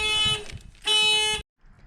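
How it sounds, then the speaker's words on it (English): A 2008 Hyundai Tiburon panic alarm, set off from the keyless remote, sounds two loud electronic horn blasts, a short one and a longer one, then cuts off sharply. "panic alarm will go off. I just set it off."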